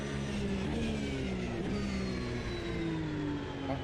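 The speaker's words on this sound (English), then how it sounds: "Fast car approaching." A car engine drones steadily in traffic, its pitch sweeping upward as a fast vehicle closes in from behind, loud and continuous with no talk.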